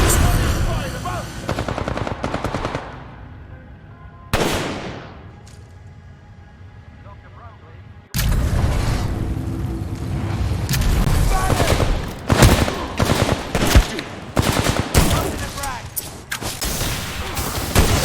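Loud, sustained automatic gunfire in the video game Titanfall 2, dense bursts and booming blasts with a short lull midway before heavy firing resumes, mixed with game voices shouting.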